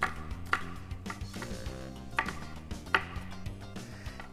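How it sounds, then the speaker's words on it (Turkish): Knife chopping peppers on a cutting board in quick irregular taps, fairly quiet and close, with a few sharper cuts standing out. "Ve ince ince doğruyorum."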